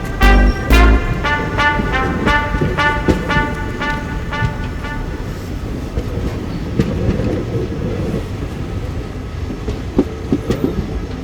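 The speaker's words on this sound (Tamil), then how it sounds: "அது தஞ்சாவூர் போகிற ட்ரெயின்டா" A train rolls past up close, its wheels clacking in a steady rhythm over the rails beneath a constant rumbling roar.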